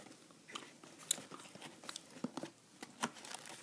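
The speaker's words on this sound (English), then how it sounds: "I'm still eating it." A Red Robin Blue Ribbon burger with fries and blue cheese is being eaten close to the microphone, giving faint, irregular bites and soft crunchy chewing sounds over a quiet background.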